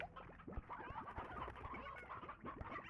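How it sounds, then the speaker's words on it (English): Chickens in the video game Slime Rancher, a faint continuous chorus of soft clucks and coos overlapping at a distance in the background. "Chickens."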